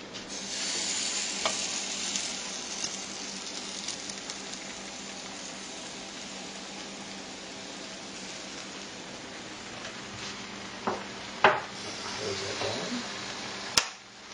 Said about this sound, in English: And then, time for the waffle mix. So a little bit in.